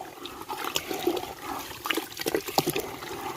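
Water pours from a pipe into a field channel, a steady splashing rush with brief louder gushes, close by and unbroken by talk.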